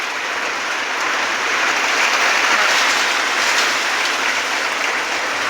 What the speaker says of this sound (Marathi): बघा पाऊस बघा.